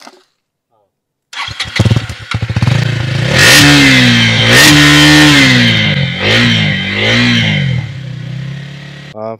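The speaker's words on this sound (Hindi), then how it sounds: "बेसिकली एग्जॉस्ट का साउंड तो अंडरबेली एग्जॉस्ट मिलता है इसमें." A KTM Duke 250 Gen3 with its underbelly exhaust starts up after a short silence, then is revved hard several times, rising and falling, with a loud, close, throaty engine note.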